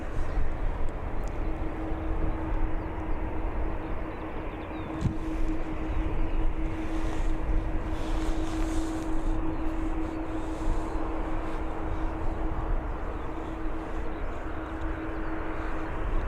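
An airliner climbs away from Dublin Airport with a steady, broad jet engine roar heard from a distance, a constant droning tone riding over wind noise with no break.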